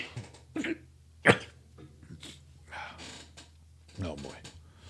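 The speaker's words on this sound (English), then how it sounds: "I had to sneeze" A single sharp, close sneeze bursts out loudly, surrounded by quieter breaths and throat noises.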